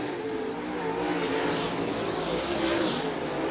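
Late model race cars at Thunderbird Raceway roar through a turn, a dense, sustained engine drone from several cars close together with rising and falling revs, continuous and loud throughout.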